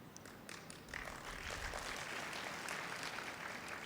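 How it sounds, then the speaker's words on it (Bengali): Soft, distant applause from a crowd, a steady patter of clapping that holds evenly for a few seconds. "হাততালি কম পড়েছে"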